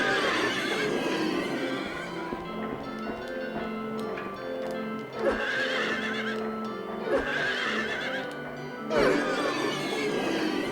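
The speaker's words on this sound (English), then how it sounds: "These are very creepy looking horses," Horses in the video game Silent Hill 3 whinny repeatedly in shrill, distorted bursts over hoof clatter and thuds, loud and close, with several neighs spaced a few seconds apart.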